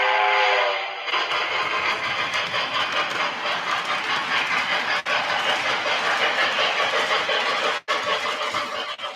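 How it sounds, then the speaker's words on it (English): Model K4 steam locomotive with a magnetic chuff switch gives a continuous, fairly loud synchronized chuffing hiss, broken by a couple of brief dropouts as it runs. "Show you where I put the chuff switch to get the synchronized chuff."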